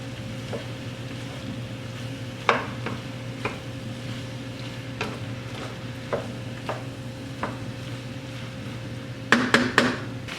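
A spoon stirs ingredients together in a pot for French onion and potato soup, giving scattered scrapes and knocks over a steady low hum, with a quick cluster of clinks near the end.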